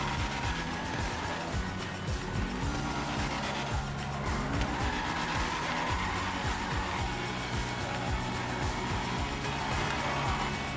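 An Ocelot F620 drifts around the Formula Drift track in GTA 5 Online, its engine droning steadily with rising and falling revs and a continuous hiss of tyre noise throughout.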